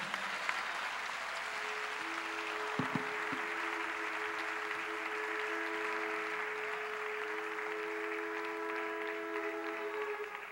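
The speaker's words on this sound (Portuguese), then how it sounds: "Aplauda o Senhor, querido." A church congregation at an international Gideões gathering applauds the Lord, a steady wash of clapping that holds for the whole stretch at moderate distance, with a sustained tone humming underneath.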